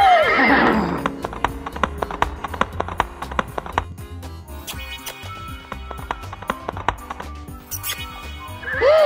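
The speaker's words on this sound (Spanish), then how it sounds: "Hola, caballito." A horse neighs loudly at the start and again at the end, with a run of hooves clip-clopping in between, quick irregular taps close by, and a little talk in the background.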